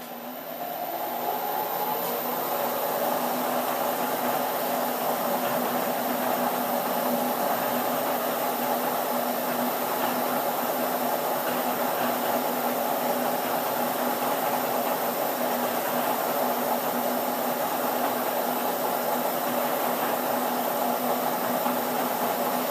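A grinder on a grinding fixture runs at about 1000 RPM, giving a loud, steady, unbroken whirring hum with a constant whine throughout.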